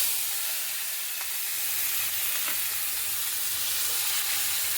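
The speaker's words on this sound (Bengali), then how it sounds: "ভালো করে কষাতে হবে মশলাটা।" Soft, constant sizzle of onion, ginger and spices cooking in hot oil, a fairly quiet hiss with a few faint pops, no voices.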